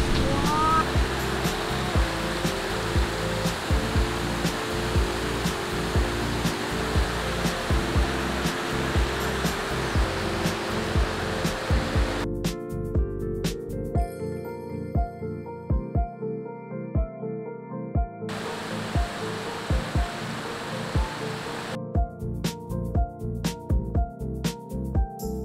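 A river in Telupid rushes steadily as broad, continuous water noise, loud and close throughout, with clicking artifacts and no clear speech.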